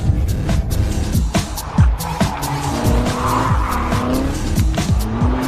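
A Corvette Z06 and a Nissan GT-R brake hard on a test track, their tires letting out loud, wavering squeals over the rumble of the engines, with several overlapping skids close by and no talking.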